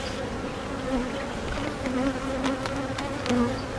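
Honey bees buzz steadily at close range inside a hive, a continuous droning hum with a drone bee among them trying to get out; no one speaks.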